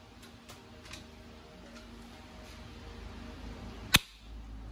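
An A&K 818 airsoft sniper rifle fires one sharp, snapping shot near the end, preceded by faint ticks and quiet room noise.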